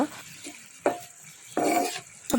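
A spoon scrapes and stirs bottle gourd peel frying in a pan, with short metallic scrapes and bursts of sizzling separated by quieter stretches, close and fairly loud with no talking.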